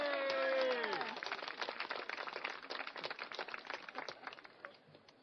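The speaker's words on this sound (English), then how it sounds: "So let's give a big round of applause to" A round of applause breaks out at an ethics commission meeting, starting after a sustained tone fades and continuing as scattered, fairly faint clapping from a small audience.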